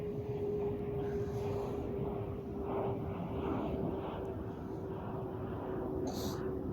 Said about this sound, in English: There goes my private jet right there.